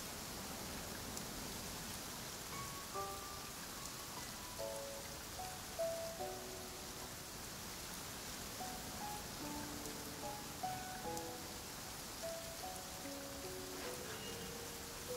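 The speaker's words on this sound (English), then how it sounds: "Let us find shelter from the rain." Rain falling in a video game, a steady soft hiss of drops on surfaces with faint scattered patters, calm and continuous at low volume.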